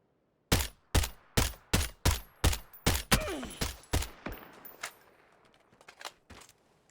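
A rapid string of muffled, suppressed gunshots in the video game PUBG, about a dozen evenly spaced pops fading in loudness, with faint rattling afterward.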